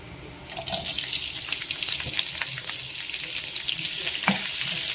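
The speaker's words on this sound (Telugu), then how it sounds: "ఇవి కొంచెం చిట్టపట్టమన్నాక ఎర్రగడ్డ ఎండుమిరపకాయ వేస్తున్నానండి." Onion and dried red chillies hit hot oil already crackling with mustard seeds and cumin, bursting into loud, dense sizzling frying with scattered pops and stirring scrapes, close and continuous.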